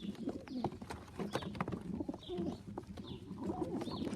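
A pure Pilot racing pigeon cock coos in a stock loft, with soft repeated low throaty coos close by, mixed with light wing and cage rustles and faint chirps from other birds.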